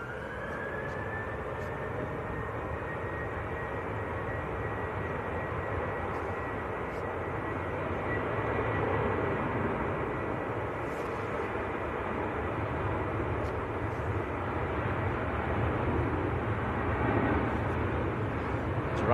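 A Ryanair passenger jet departs Manchester Airport bound for Lisbon, its engines producing a loud, sustained roar with a rising whine that builds and swells steadily at moderate distance.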